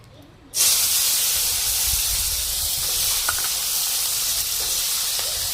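Potatoes dropped into a hot pan for a Bengali vegetable dish with fish burst into a loud, steady sizzle after a brief quiet start, hissing continuously and close up for the rest of the clip.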